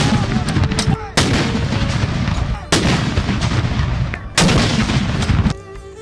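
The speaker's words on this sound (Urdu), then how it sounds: "وفاقی دارالحکومت میں دن کا آغاز توپوں کی سلامی سے ہوا" Cannon salute fired at dawn in Islamabad for Pakistan Independence Day: three loud, deep booms spaced a second or two apart, each followed by a long rolling rumble and echo, with no talk.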